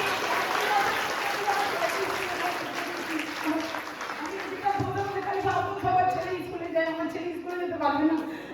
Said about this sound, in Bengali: জোরসে হাতে তালি।